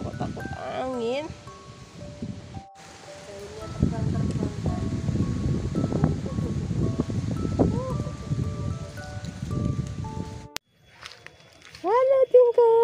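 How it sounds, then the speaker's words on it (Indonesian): Strong wind gusts through a stand of trees, producing a broad rushing rustle that swells for several seconds in the middle while people talk before and after it. "Anginnya kencang banget di sini."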